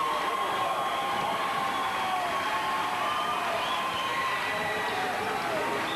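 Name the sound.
Riverside crowd cheering at volleyball match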